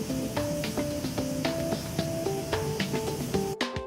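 A spray gun lays primer onto a damaged plastic part, giving a steady close hiss with faint rhythmic tonal tapping underneath, continuous for several seconds and ending abruptly.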